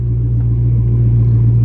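A car engine idles with a steady low rumble as the vehicle is moved a short distance, close and continuous with no talking; a Hellcat is mentioned, though the car is not clearly identified.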